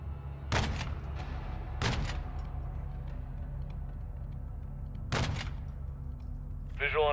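Gunfire and artillery in Modern Warfare II: three sharp, heavy booms, two close together and one a few seconds later, strike over a constant low rumble, with a short higher-pitched burst at the end.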